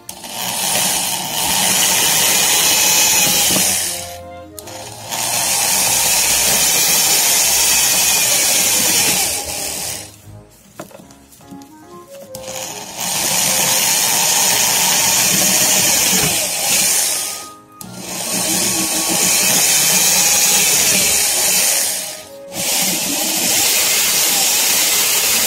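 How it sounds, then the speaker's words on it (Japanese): A loud, close power drill fitted with a wood bit bores into bamboo in long sustained bursts with a harsh grinding whine, stopping briefly several times before starting up again. "このダイソーのドリル、木工用ドリル、これ5本セットなんですけどね"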